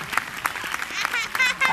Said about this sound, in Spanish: Aplaudile que le encanta, muy coqueta.